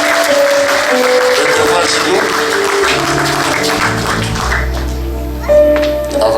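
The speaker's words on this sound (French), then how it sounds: "Est-ce qu'on va acclamer pour lui?" A church congregation applauds during a ceremony consecrating pastors to ministry, with steady, full clapping that swells near the end over sustained musical tones.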